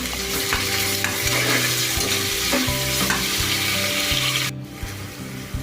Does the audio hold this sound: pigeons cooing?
no